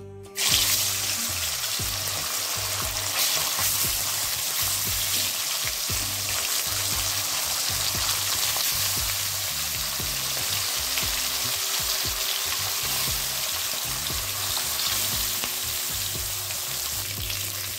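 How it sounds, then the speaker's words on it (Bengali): Pieces of silver carp fish fry in hot mustard oil with a loud, constant, close sizzle and crackle that runs unbroken throughout, with no voices. "আর এবার দিয়ে দেবো মাছগুলোকে।"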